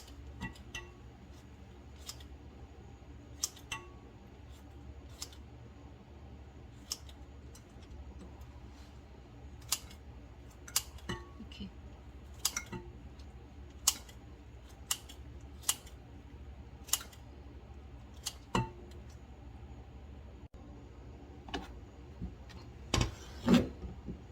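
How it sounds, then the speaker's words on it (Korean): Kitchen scissors snipping through food for a brown rice and mixed grain dish, a long run of sharp, irregular clicks and snips at close range over a quiet room, with no talk. "저는 편안하게 이렇게 가위로 합니다."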